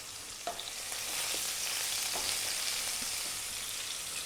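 Tablespoon of chopped garlic frying in a hot wok for stir-fried garlic pork, a steady close hiss of sizzling oil with faint scraping clicks from stirring, no talking.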